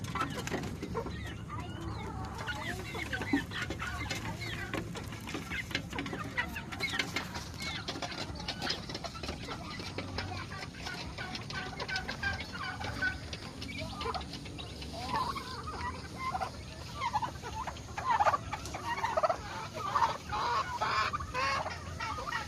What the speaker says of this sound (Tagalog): this chicken is blind